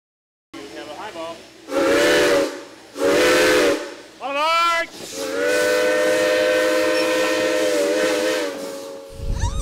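A steam train's whistle sounds in several loud, sustained blasts with a rising pitch sweep in the middle, then holds long, over a steady rushing hiss of escaping steam.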